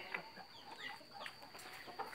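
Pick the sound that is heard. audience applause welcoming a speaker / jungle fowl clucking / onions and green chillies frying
jungle fowl clucking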